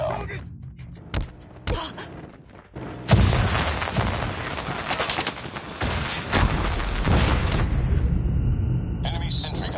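A sentry gun blown up in the mobile shooter Call of Duty Mobile, a heavy boom after sparse shots, followed by sustained loud gunfire and battle noise, with voice callouts heard through parts of it.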